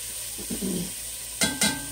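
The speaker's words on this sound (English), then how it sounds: "So we're going to saute these up a little bit." Peppers and onions sizzle in a pan as they sauté for spaghetti sauce, with a soft steady hiss broken by a few brief stirring scrapes and clatters.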